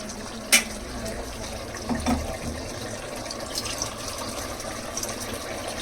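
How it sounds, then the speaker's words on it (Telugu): Water is poured into a pot of mutton curry with drumsticks, giving a soft, steady trickle and splash close by. A few light clinks of utensils sound over it, and no one talks. "కొద్ది వాటర్ వేస్తాను నేను కొంచెం"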